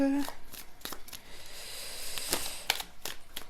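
Oracle cards are shuffled, handled and drawn from a deck, giving soft papery riffles and sharp flicks scattered through the clip, with a voice speaking around the handling.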